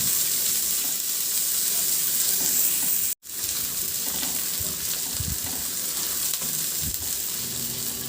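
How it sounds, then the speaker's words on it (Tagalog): Ginger and onion frying in a hot pan, a steady loud sizzle throughout with a brief cut near the middle and faint stirring scrapes. "Ilagay ko na rin yung luya. Maglagay din ako ng sibuyas."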